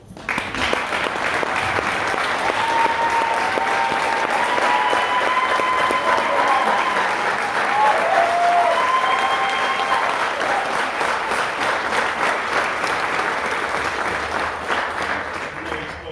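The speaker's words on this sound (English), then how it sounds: "I'm going to ask you to give him a standing ovation" A large crowd at a swearing-in ceremony gives Mayor Bill Duda a standing ovation, sustained, loud, dense clapping that carries on evenly for a long stretch before starting to fade.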